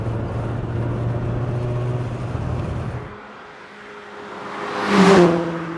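A BMW E30 M3 four-cylinder cruises along a winding road, its steady engine drone heard from inside the car, easing off and then rising briefly into a short rev before settling.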